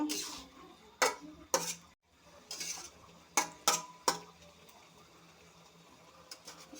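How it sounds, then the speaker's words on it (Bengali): A spoon stirs fried hilsa heads and mung dal into an ash gourd curry, several distinct metal clacks and scrapes against the pot over a faint simmer, with quiet pauses between strokes. "এখন দিয়ে দিচ্ছি ভালো করে মিশিয়ে নেব"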